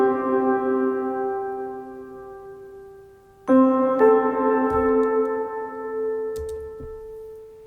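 Glockenspiel notes doubled with a soft pad in Logic Pro, high end rolled off and drenched in heavy dark reverb, ringing in sustained tones with a second chord entering midway and long tails fading out.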